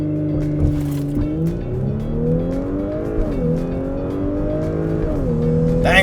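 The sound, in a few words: Audi S4 accelerating hard using launch control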